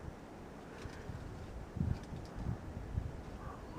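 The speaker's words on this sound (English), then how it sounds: "pretty windy up here today" Wind gusting across a hiking trail in brushy terrain, a steady low roar of microphone buffeting with stronger gusts swelling midway and toward the end, no voices.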